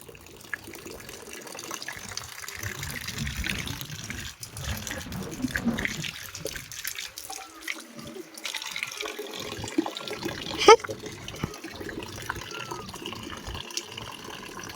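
Tap water runs into a basin, a faint, continuous trickle and splash with a few small drips and knocks.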